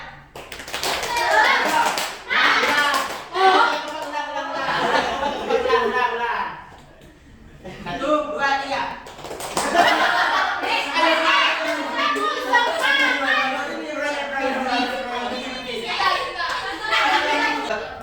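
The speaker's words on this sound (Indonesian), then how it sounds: "Biar semangat, kita tepuk semangat dulu ya." A primary school class performs the tepuk semangat chant, with children's voices calling out in unison and sharp rhythmic hand claps in bursts, pausing briefly midway before starting again, close and lively.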